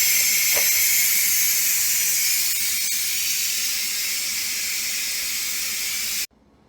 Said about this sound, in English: Protect yourself when releasing the pressure or use something to open the pressure valve from a distance.